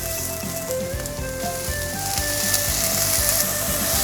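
Celery and red bell pepper hit hot oil with ginger in a wok and sizzle loudly and steadily, with scraping stir-fry strokes of a utensil against the pan throughout.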